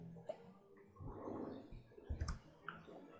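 A computer mouse clicking an OK button in PowerPoint 2013: a few faint, sharp clicks spaced irregularly, close but quiet, against a low background murmur of handling noise.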